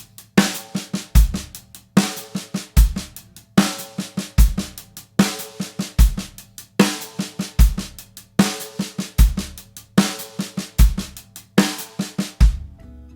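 Drum kit playing a paradiddle groove, right hand on hi-hat, left on snare, bass drum on beats 1 and 3 and accented snare on 2 and 4, looping steadily and loud with a clear repeating pulse.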